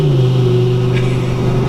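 A twin-turbo 1,040 horsepower Lamborghini Gallardo engine, mounted just behind the driver, holds a loud, steady droning hum with a deep tone heard from close by, and no voices.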